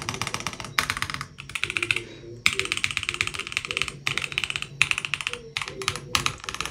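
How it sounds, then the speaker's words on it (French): Rapid clattering keystrokes on a mechanical gaming keyboard come in bursts with brief pauses, close and crisp, and no one speaks. "On sent vraiment qu'on est sur un clavier quand même extrêmement quali."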